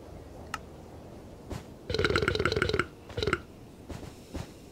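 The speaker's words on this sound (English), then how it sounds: "He keeps on burping." A video game character lets out a long, loud buzzy burp, then a shorter one, with a few faint clicks and thuds around them and no talking.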